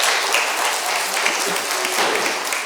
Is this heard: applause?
yes